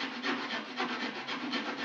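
A pocket knife or multitool saw cuts through wooden prongs of a hand-carved hay fork, a steady back-and-forth rasping of roughly six strokes, close and alone.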